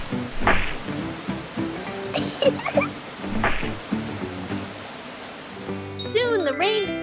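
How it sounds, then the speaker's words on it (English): Cartoon rain falling pitter-patter, a steady hiss of drops throughout with a few louder splashes and a brief squeaky tone near the end. "The rain fell pitter-patter, forming big puddles all over the ground."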